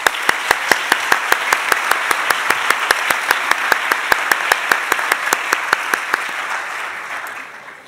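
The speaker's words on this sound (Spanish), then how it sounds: "os pido un aplauso final" A final round of applause at a round-table session, dense and steady with sharp individual claps standing out near the front, sustained for about seven seconds before fading out.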